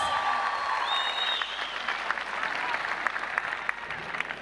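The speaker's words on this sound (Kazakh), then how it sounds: "қол шапалақ қошеметтерімізді сұрамыз" A theatre audience applauds a comedy team at a stage competition, dense steady clapping close and loud throughout, with faint voices mixed in.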